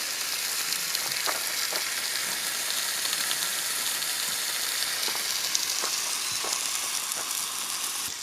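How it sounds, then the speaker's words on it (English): Bacon fries at a lakeside campsite, a constant close crackling sizzle with scattered pops and spits and a few light utensil clicks, no talking. "Bacon."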